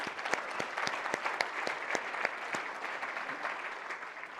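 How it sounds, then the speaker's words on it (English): Audience at a nuclear energy industry forum clapping, a dense burst of applause with distinct sharp claps, moderately distant and steady, fading slightly toward the end. "Big round of applause for them."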